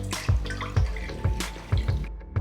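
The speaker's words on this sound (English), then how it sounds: "pour enough water." Water poured from a tap into a white saucepan, a steady splashing stream with several sharp, drip-like impacts, ending abruptly.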